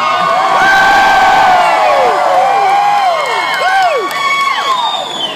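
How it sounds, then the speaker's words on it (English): Large crowd of race fans at Richmond roars and cheers for Dale Earnhardt Jr., with loud overlapping shouts, whoops and rising-falling yells layered over a constant crowd roar, close and intense throughout. "Looking out here at how many people are cheering for you."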